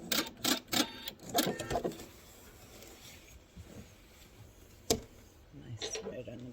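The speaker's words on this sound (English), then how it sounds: "I'm going to sew off diagonal and cut my thread." A sewing machine stitches a quilted star-and-heart table runner in quick rhythmic bursts for the first two seconds, then falls quiet except for a sharp click and some faint handling noise near the end.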